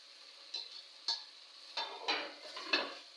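Cubed boiled eggs drop into a simmering stew in a pan and are gently mixed, giving a handful of soft clinks and scrapes over a faint sizzle.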